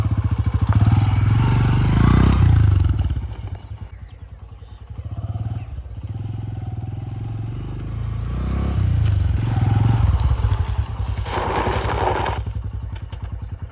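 A Honda Activa scooter being ridden, its engine droning steadily and loud throughout with rising and falling revs, plus occasional clatter and thumps from the ride.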